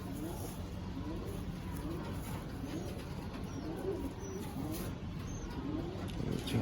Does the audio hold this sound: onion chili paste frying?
no